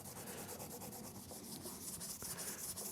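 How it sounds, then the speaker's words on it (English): Sandpaper rubbed briskly back and forth over a Toro lawnmower blade, a fast, even scratching rhythm heard close and continuous throughout. "maybe we'll get a little bit of sandpaper or something and just do a quick little scratcheroo on the old blade there"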